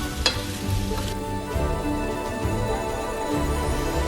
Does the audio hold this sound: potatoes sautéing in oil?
yes